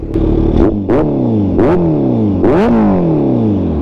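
A Kawasaki ZX14R with a new exhaust revs hard several times up to high RPM, each loud rising engine scream falling back between blips, close and alone with no voice.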